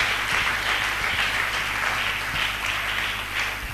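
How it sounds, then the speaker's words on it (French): A church congregation applauds loudly in a long, steady wash of many hands clapping together, filling the room without a break. "Acclamons très très fort la parole du Seigneur."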